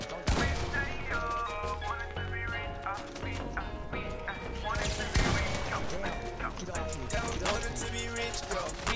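Fortnite box fight with dense rapid gunfire and crashing game effects layered under music-like tones, loud and continuous with a sharp blast midway; voices talk over it.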